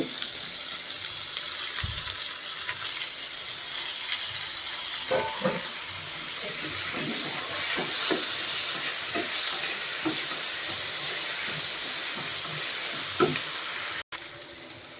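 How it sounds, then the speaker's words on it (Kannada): Onion, tomato and capsicum fry in a pan for broken wheat upma, giving a loud, continuous close-up sizzle with intermittent scraping and stirring knocks throughout. "ಈರುಳ್ಳಿ ಸ್ವಲ್ಪ ಫ್ರೈ ಆದಮೇಲೆ ಟೊಮೆಟೊ ಮತ್ತು ಕ್ಯಾಪ್ಸಿಮ್ ಹಾಕ್ ಕ್ಯಾಪ್ಸಿಕಮ್ ಹಾಕೋತಾ ಇದ್ದೀನಿ"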